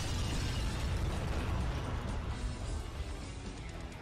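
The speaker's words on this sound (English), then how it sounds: "Like a delayed explosion." A rumbling anime battle explosion between Goku and Sataima, a loud sustained roar with heavy low-end boom that slowly tapers off toward the end.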